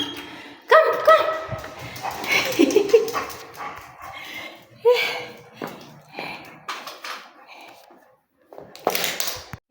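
A dog on a walk barks and yips in bursts, then whimpers and whines between louder outbursts, close by, while a person talks nearby.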